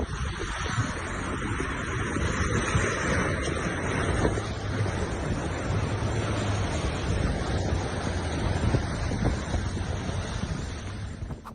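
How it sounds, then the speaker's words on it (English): Ocean surf surges steadily onto a beach with small waves, a constant loud rushing wash mixed with heavy wind buffeting the microphone, unbroken throughout and with no voices. "The small waves don't seem too menacing"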